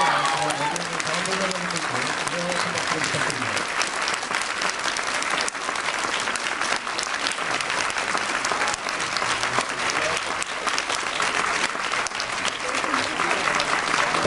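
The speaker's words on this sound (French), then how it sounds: "Merci de les remercier avec vos applaudissements." Sustained applause from a sizeable audience at a film festival closing ceremony, dense clapping that stays even and steady throughout.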